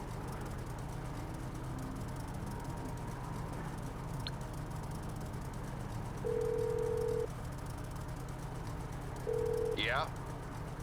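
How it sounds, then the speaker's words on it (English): In the video game GTA 5 Online, a phone call rings as two separate electronic tone bursts a few seconds apart, heard over a steady low background hum. "you're going to pick up your phone. You're going to call Agent 14"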